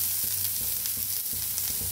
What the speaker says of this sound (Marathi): आता कांदा भाजून घ्यायचा आहे आपल्याला।